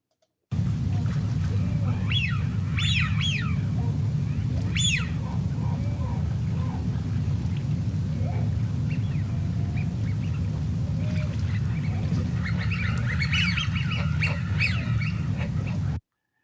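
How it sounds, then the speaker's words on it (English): Wigeon, a dabbling duck, whistling in winter at Rye Harbour Nature Reserve: several sharp, rising whistles come in short bursts early on and again near the end, over a constant low rumble of wind or water. "So a whistling widgeon."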